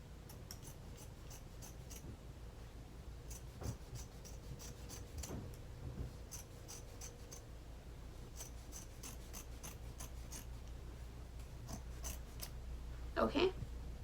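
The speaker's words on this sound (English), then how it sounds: "all I'm gonna do is cut off the other side" Scissors snipping through fabric to square off a no-sew pillow, a long run of faint, close, regular blade snips over a low steady background hum.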